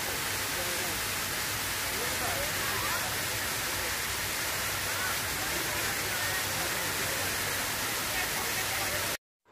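Water fountain splashing behind a theatre among seating and trees, a continuous broad rushing hiss heard up close and steady until it cuts off at the end.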